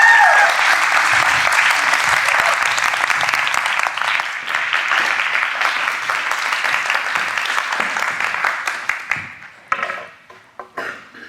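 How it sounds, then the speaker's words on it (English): A large audience at a film industry talk claps loudly and continuously for a speaker, the dense applause thinning into scattered individual claps over the final seconds. "please give a round of applause to Sigrid Regina"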